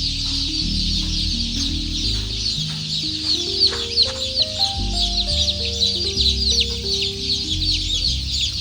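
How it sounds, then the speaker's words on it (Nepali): Several thousand young chicks on a small poultry farm keep up a dense, continuous chorus of high peeping cheeps close by, with stepped musical tones running underneath throughout. "ल फाइनल्ली यहाँ चाहिँ चल्लाहरू रिलिज गरेर सक्यो।"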